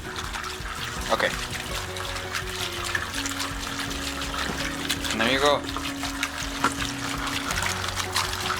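A homemade water fountain trickles and splashes steadily in the background while a person speaks briefly over the running water.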